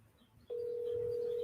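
An outgoing telephone call starts after a brief quiet moment, then a steady ringback tone sounds continuously and fairly loud.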